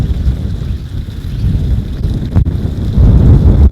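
Strong wind buffets the microphone in a continuous low roar while a sinking fly line is cast into the wind from open water, gusting louder toward the end.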